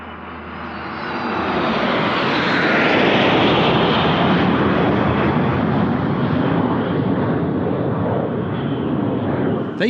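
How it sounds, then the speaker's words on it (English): Aero L-39 Albatros advanced jet trainers fly a display, their engine roar swelling loudly over the first few seconds and then holding as a broad, sustained rushing drone. "Vyazma Rus fly the Aero L-39 Albatros Advanced Trainer."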